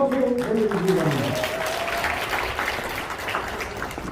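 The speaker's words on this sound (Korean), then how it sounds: "큰 박수 보내주시기 바랍니다." Loud, close audience applause at an appointment ceremony, with a voice speaking briefly over the start before the clapping continues alone as a steady wash.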